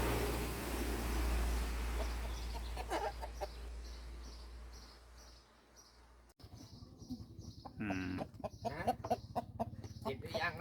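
Gamecocks (fighting chickens) on a farm cluck and squawk close by in short, irregular bursts, with a steady low hum early and rustling movement later.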